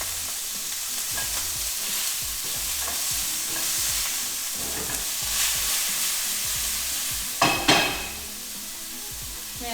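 Meat sears in a hot pan with a steady, close sizzle, broken by stirring and scraping as it is turned, plus a couple of sharp clatters near the end.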